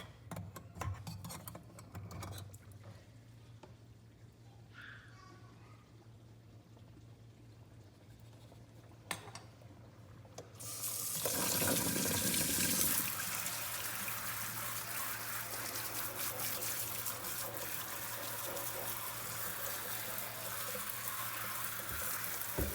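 Water splashes and sloshes faintly in a sink as the plug is pulled. A louder cold tap stream then gushes in steadily to rinse scalded peaches and keeps running to the end.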